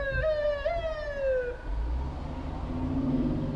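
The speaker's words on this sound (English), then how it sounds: "It was a fire engine, it wasn't an ambulance." A fire engine siren wails with a falling, wavering tone for about a second and a half as it passes, then fades under steady road and rain noise.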